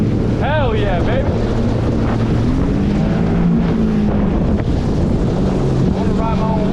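A 20-year-old jet ski runs across open water, its engine droning under heavy wind buffeting and splashing, with voices briefly heard over the loud, close rushing noise.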